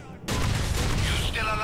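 Dense, loud burst of gunfire in Grand Theft Auto IV, a sudden onset after a brief lull and then continuous overlapping shots, with a voice faintly underneath.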